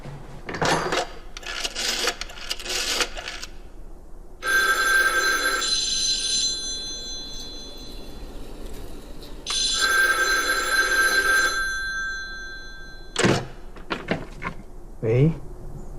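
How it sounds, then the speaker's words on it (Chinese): An old-style telephone bell rings in long bursts inside a tense spy-drama scene set in a bank official's office, each ring loud and sustained, alternating with short stretches of background sound and brief dialogue-free gaps. "给崔中实房间打电话"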